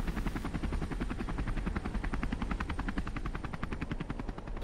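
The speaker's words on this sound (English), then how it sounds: "a helicopter!" A helicopter's rotor beats in a fast, steady chop, loud and close throughout with no voices, set in a snowy outdoor scene from a short film.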